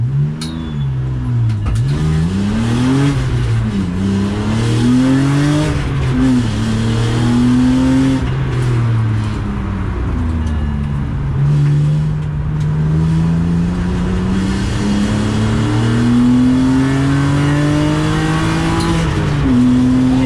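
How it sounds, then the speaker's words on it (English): Race car driven hard on a practice track during a late-braking exercise, engine loud and close, pitch swinging up and down through several rises and drops, with faint tyre scrub under the roar. "it's a braking exercise, so I have to brake as late as I can. I'm trying to lock up, basically."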